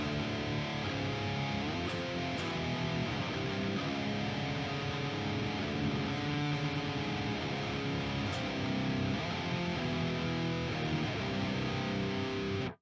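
High-gain electric guitar played through an STL amp sim preset, a thick distorted tone with sustained chugging chords and riffs, loud and continuous with no talking.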